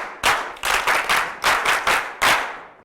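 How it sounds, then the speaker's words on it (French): Studio audience applause on a French-language youth television debate show, heard as a string of loud, sharp bursts of clapping in quick succession, each swelling and fading, with no talk over it. "nous allons raccompagner Ulrich sur vos applaudissements, s'il vous plaît"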